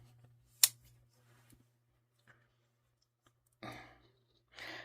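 Scissors snip crochet yarn in a single sharp, close cut in a quiet room, followed by a few faint handling sounds and later two brief bursts of rustling.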